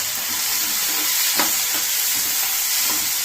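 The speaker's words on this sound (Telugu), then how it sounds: "బాగా ఫ్రై చేయాలి." Tomatoes fry in a pan for a bitter gourd curry with an even, close hiss of sizzling oil and a few soft scraping stirs.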